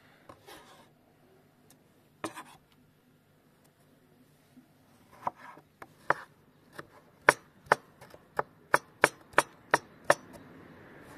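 Knife chopping on a board: a few scattered cuts, then a steady run of about a dozen sharp, evenly spaced chops, close and clear.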